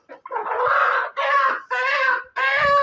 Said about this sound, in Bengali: আমার ভিডিও হচ্ছে এই মুরগির বাচ্চাগুলো নিয়ে